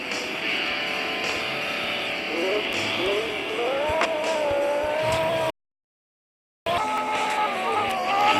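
A car engine in an Android mobile driving game drones and rises in pitch as it accelerates, steady and close, with a brief dropout of total silence partway through before the revving resumes.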